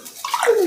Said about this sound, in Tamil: அளவு தண்ணி அளந்து ஊற்ற போகிறோம்.